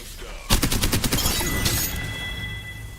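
Rapid gunfire with heavy recoil in Apex Legends: a loud burst of about a dozen closely spaced shots that fades into a lingering rumble and echo.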